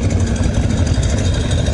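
A pair of Harley-Davidson motorcycles, one with a Panhead engine and one with a Shovelhead, idle loud and close after overheating, a steady, throbbing low rumble.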